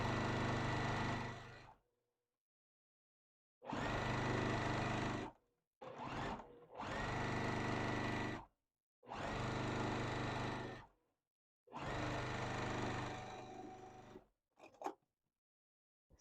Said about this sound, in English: let's sew the other side